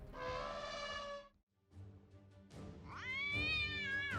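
Cats give loud, drawn-out yowls and snarling wails while attacking a dog. One long harmonic cry is followed by a short lull and a rougher growl, then a rising, wavering caterwaul, all close by with no talk.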